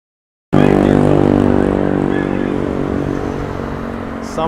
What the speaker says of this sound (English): Someone's riding on a motorcycle that's designed like a jet ski.